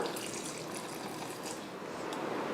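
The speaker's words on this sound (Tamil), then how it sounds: "இப்போ இதை தண்ணி ஊற்றி அரைச்சிக்கலாம்" Water is poured into a mixer jar holding roasted gram, peanuts, coriander, curry leaves and salt for chutney, a steady close splashing trickle with no talk.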